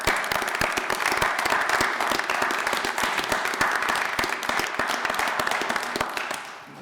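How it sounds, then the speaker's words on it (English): A city council meeting audience gives a round of applause for local firefighters, steady crisp clapping from a roomful of people that holds for several seconds and then tapers off. "give them a round of applause"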